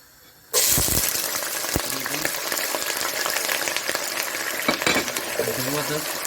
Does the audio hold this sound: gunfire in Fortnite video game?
no